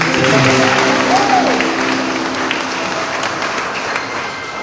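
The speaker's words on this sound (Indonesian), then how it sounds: "Clap for yourself." Loud audience applause fills a church service, sustained clapping from a large congregation that slowly tapers, with a voice briefly audible underneath.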